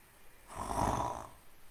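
A man imitates snoring with a single loud, rasping inhale lasting about a second, close and alone between quiet pauses.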